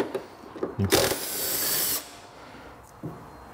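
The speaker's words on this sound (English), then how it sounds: "I'll just do it with an impact, make it nice and easy, 13 millimeters" An electric impact wrench removes a 13 mm upper shock mount bolt on a Vespa GTS scooter: a loud, sustained buzzing whir of about one second, then a short, fainter burst near the end.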